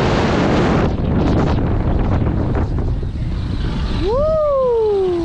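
Strong wind buffets the microphone high on the Blackpool Starflyer ride at Christmas, a loud continuous roar that eases after a few seconds, followed by a gliding whistle-like tone.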